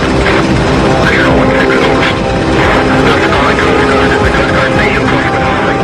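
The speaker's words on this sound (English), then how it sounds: "a Coast Guard helicopter begins its response" A Coast Guard helicopter flies out from Cape Cod into 40-knot headwinds on a sea rescue, its engine and rotor making a loud, steady, unbroken drone through the whole stretch.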